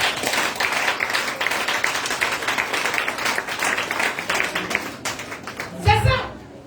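A church congregation at a Sunday praise and worship service claps rhythmically in steady unison throughout, with voices mixed in beneath the applause.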